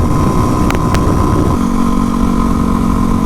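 Yamaha WR250R supermoto single-cylinder engine running steadily on the road, a loud continuous drone with wind rush and a steady pitch that drops slightly partway through, no voices.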